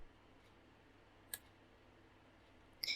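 Two crisp, isolated mouse clicks on a laptop, faint and well spaced against quiet background hiss.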